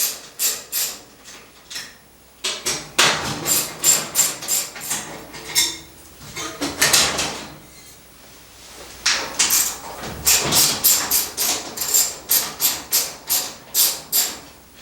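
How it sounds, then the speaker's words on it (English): A quarter-inch ratchet with a quarter-inch socket and small extension works on a Maytag Bravos washing machine, giving bursts of rapid metallic clicking in several runs with brief pauses between. "I'm using a 1/4 inch ratchet and a 1/4 inch socket and a small extension."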